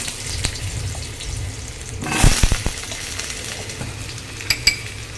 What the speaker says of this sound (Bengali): এই তেলেই আমি আবার আলুগুলো ভেজে নিচ্ছি